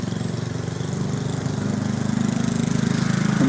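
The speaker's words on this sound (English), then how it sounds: "he's a little tractor coming down to achieve part two, which is cut this lower area" A small tractor mows a lower stretch of grass, its steady mower engine droning loud and close with a slight pulsing rhythm that builds a little toward the end.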